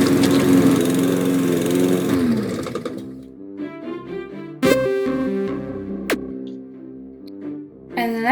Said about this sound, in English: Now you want to stand in front of the lawnmower and interact with it.